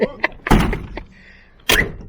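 A Ford OBS Powerstroke 7.3 truck door thunks open with a solid clunk, followed by a rattle and a second loud bang, close by.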